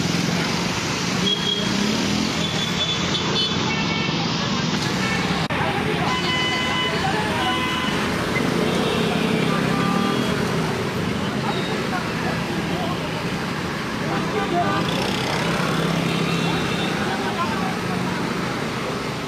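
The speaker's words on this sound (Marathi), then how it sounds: "सो ट्रॅफिक जाम जाला" Dense roadway traffic backed up after a chain-reaction crash during rush hour in Panaji, with a steady loud rumble of idling and creeping engines close by, people talking throughout.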